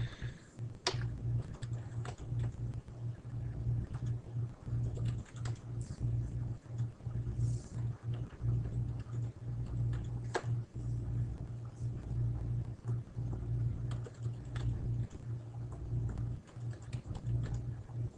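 Someone types a password on a computer keyboard. Sparse, faint key clicks sit over a steady low hum, with no talk.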